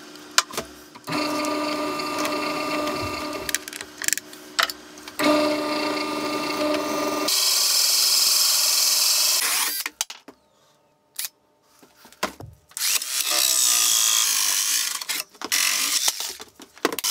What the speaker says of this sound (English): cut the galvanized plate for the second layer component. And I've got to do this the old-fashioned way with my trusty pillar drill